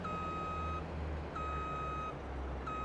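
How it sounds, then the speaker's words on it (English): Harvester GPS activation in Farming Simulator 22 gives a steady electronic tone that repeats three times at an even pace, each about a second long with short gaps, over a continuous low engine rumble. "It's got the proper sound like when you go and activate the sat-nav GPS in a proper harvester or tractor."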